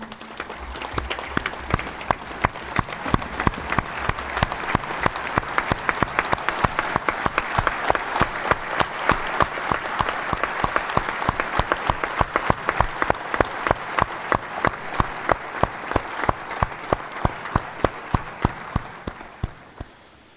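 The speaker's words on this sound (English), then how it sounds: "May I kindly call all of you to rise and for another round of applause for the outgoing Commission." A standing audience at a formal ceremony applauds the outgoing Commission with sustained, dense clapping that holds steady for about twenty seconds before tapering off at the end.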